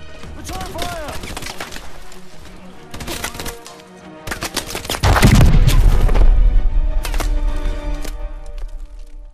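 Gunfire in Call of Duty Advanced Warfare sounds as rapid cracks and shots, followed by a heavy boom that leaves a loud rumbling stretch before further scattered shots, with voices over the top.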